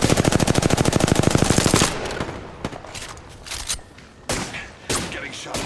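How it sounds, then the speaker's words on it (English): Gunfire in a shooter video game: a rapid, loud automatic burst for about two seconds, then scattered single and double shots at irregular gaps, close and sharp. "I'm taking fire."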